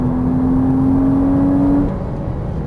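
Porsche Cayman S on a racetrack, loud in-car engine drone holding a steady pitch, then dropping off as the driver brakes and shifts.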